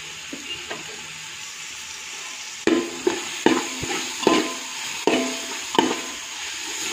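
Tomatoes fry in a pan for prawn biryani, a steady soft sizzle with a series of sharp scraping and knocking stirs at irregular intervals, close up and without talk.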